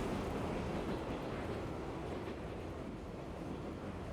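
Steady rumbling hum of a train ride in the Tsukihime visual novel, a continuous broadband drone of wheels and carriage noise at even level throughout, with no voices.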